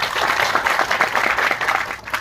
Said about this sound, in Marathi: सर्व मान्यवरांसाठी दोन हजार टाळ्या झाला पाहिजे